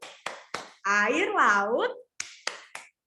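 Rhythmic hand claps in a children's clapping game: three sharp close claps, a stretch of sung or chanted speech, then three more evenly spaced claps, loud and crisp.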